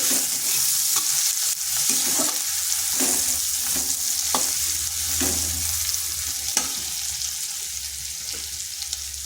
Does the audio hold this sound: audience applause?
no